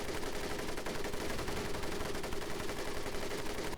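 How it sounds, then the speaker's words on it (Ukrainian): Machine gun fire from the World War II shooter Medal of Honor Pacific Assault, a dense continuous rattle of rapid bursts over a busy battle background, steady throughout. "Просто з кулемета фігарити по ньому."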